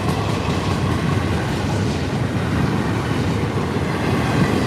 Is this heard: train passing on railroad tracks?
yes